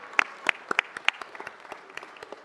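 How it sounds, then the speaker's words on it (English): A small audience at a city council meeting applauds, giving scattered, sharp individual claps that come close and fairly distinct in a brief burst before thinning out. "Yes, please, round of applause."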